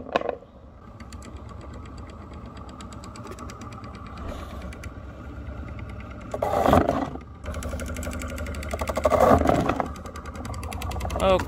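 A homemade frisbee launcher with a spinning wheel runs steadily with a loud motor drone, surging twice as a warped frisbee is fed through with rattling bursts, and a voice talks intermittently.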